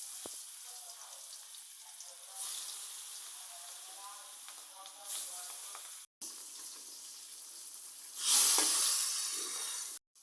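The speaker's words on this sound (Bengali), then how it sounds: "এখন পাশের চুলায় তেল গরম করে মাছগুলা ভেজে" Fish sizzling in hot oil on a home stove, a steady frying hiss with louder bursts of spitting toward the end, heard alone without talk.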